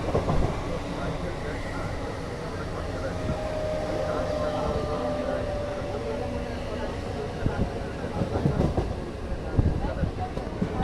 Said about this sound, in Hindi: यहाँ पे लोकल ट्रेन अभी मतलब कि थोड़ी थोड़ी देर में यहाँ पे लोकल ट्रेन जाती रहती है